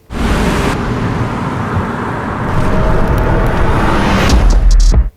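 A Tesla Model S Plaid electric car pulling away with a loud, continuous rushing whoosh of tyres and air that swells over a few seconds rather than revving, with no engine note.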